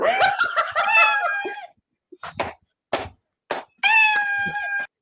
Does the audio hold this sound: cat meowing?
yes